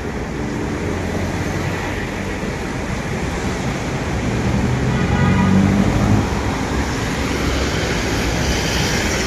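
MRT-3 train passing along EDSA near North Avenue, a loud continuous rumbling roar of rail traffic mixed with road noise, swelling toward the middle and easing afterward.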